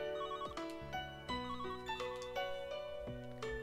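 A phone rings in the Tokimeki Memorial Girl's Side 3 game as a looping electronic ringtone melody, with bright repeating tones that stay steady and clear over a soft game background and no talk.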